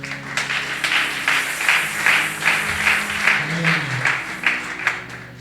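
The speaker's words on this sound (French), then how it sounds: "on peut acclamer aussi pour lui." A church congregation claps and applauds for a pastor standing before them, a steady rhythmic patter of many hands with voices murmuring underneath.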